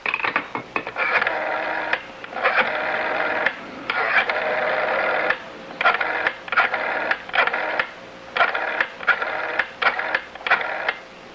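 A telephone in a radio mystery drama being dialed to a toll-free number and then ringing, heard as a run of steady tones broken by short gaps, fairly loud, with no talk over it.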